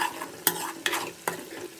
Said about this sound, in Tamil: பார்த்திங்கன்னா காய்கறியெல்லாம் பாதி அளவுக்கு வதங்கிடுச்சுங்க